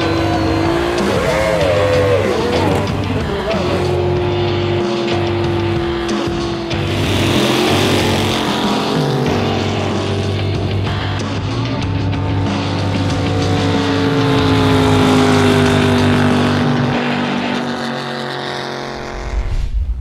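Outboard-powered drag boats at the National Drag Boat Championships, a loud sustained engine roar with rising and falling pitch as they run, near and steady throughout with no talk.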